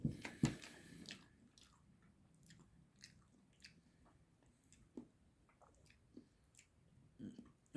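Bites and chewing of kebab-flavour pot noodle, tried without hot sauce: soft wet munching clicks and squishy mouth sounds scattered through a quiet stretch, a louder crunchy burst near the start.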